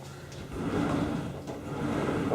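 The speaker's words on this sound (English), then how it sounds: "Doors are closing and opening." Closet doors in a house slide and bump as they are opened and shut, a steady rumbling glide with a couple of soft knocks, close by and with no talking.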